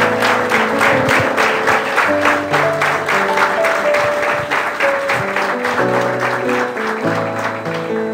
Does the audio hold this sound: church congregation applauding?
yes